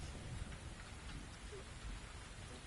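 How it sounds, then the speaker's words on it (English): Rain pours in The Invisible Hours video game, a soft continuous wash of noise with a low rumble beneath, faint and steady throughout. "Could I persuade you to come out of the rain, Flora?"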